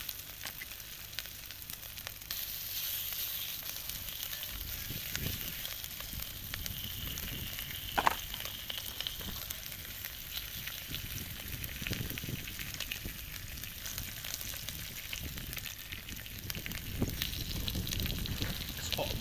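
Six pieces of food fry in a pan over an outdoor cooking setup, giving a continuous steady sizzle and crackle at moderate loudness with one brief sharp pop midway.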